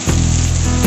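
Potatoes, carrots and beans sizzle loudly as they are stirred into hot oil in a pan for a Kerala beef stew. A brief, close burst of frying hiss.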